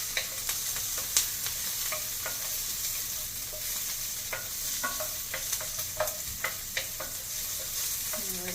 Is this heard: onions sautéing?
yes